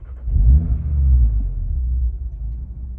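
An Audi RS3 with a freshly flashed stage 1 ECU tune starts up with a deep, close rumble that swells quickly, then settles into a steady low idle.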